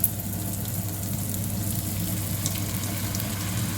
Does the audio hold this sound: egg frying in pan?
yes